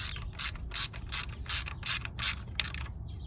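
A 1/4 inch ratchet tightens bolts on the head of a Toyota Camry engine, giving a close run of about nine sharp clicking pawl bursts in quick rhythm and no talk.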